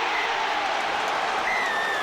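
A rugby league crowd at Wakefield vs Castleford in 2006 roars as Willie Manu's try for the Castleford Tigers is awarded. The dense, loud cheering and applause hold steady throughout.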